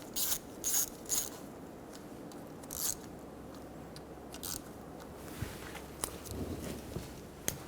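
A ratchet snugs transmission pan bolts on a 2000-2007 Ford Focus, giving several short bursts of clicking spaced over the first seconds, then softer intermittent clicks and taps later, close and moderately loud with no talking.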